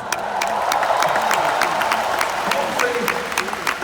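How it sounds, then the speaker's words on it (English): A crowd applauds steadily, dense clapping filling the space, fairly loud and sustained throughout. "Give Tim a round of applause."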